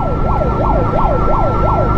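Ambulance siren wailing in a steady rising-and-falling sweep, loud and close, over continuous traffic and engine rumble as the vehicle is escorted through city streets.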